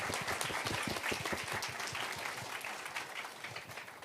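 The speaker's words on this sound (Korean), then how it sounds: "오늘 수고해주신 게스트 여러분께도 다시 한번 박수 부탁드리겠습니다." Audience applause at a cruise tourism talk concert during the 2022 Korea Cruise Travel Mart, a dense, steady patter of many hands clapping that stays loud through the whole stretch and eases only slightly toward the end.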